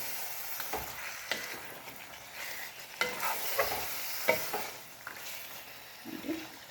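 Chicken masala stirred in a frying pan, a spatula scraping and clacking in irregular strokes over a steady low sizzle, close but fairly quiet.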